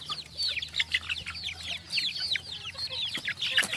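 Rhode Island Red crossbred layer chicks, about three months old, in a pen, giving a constant flurry of high, rising peeps and chirps that overlap near the listener over a low steady hum.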